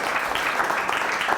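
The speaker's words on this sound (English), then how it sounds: "Let's give a round of applause." Audience applause after a community talk evening, a steady dense clapping wash held at an even level throughout, fairly close and with no speech over it.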